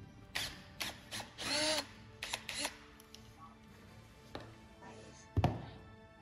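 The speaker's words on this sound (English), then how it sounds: "It have a 10 mm bolt here, so we will unscrew it." A 10 mm bolt is unscrewed from a QS Motor hub during an encoder installation: faint ratcheting clicks and metallic clunks come in short bursts, ending with a sharper thunk.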